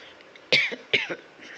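Two sharp coughs from someone with a cold and sore throat after a long hot climb on the Tirumala footpath steps, close and fairly quiet, spaced about half a second apart.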